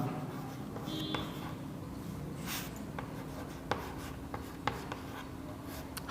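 Pen or pencil scratching on paper while numbers are written out by hand for a primary maths lesson, a steady quiet rubbing with a few sharp taps of the tip, close and alone with no talking.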